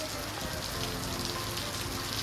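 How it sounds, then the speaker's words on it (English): Steady rain falling in Manchester on a grey day, a dense, even hiss of drops hitting surfaces close around, unbroken and alone for a couple of seconds. "and here's the rain."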